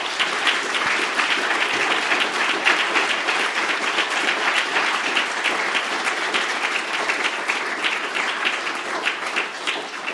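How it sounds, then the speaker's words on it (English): A large audience at a climate crisis panel event applauds the panel with sustained, dense clapping at steady loudness, filling the whole stretch without any speech. "So I think they all deserve a round of applause."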